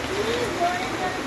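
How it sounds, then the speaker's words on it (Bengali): A heavy monsoon downpour heard from a kitchen, a dense, steady hiss of rain drumming on surfaces that fills the whole brief moment. "ওরে বাবারে, মুষলধারে বৃষ্টি আসছে।"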